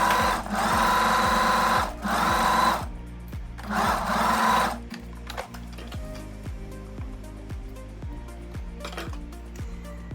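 A sewing machine runs a straight stitch line down the side seam of a summer dress pocket bag, loud, steady whirring bursts with pauses, then slower individual needle clicks toward the end.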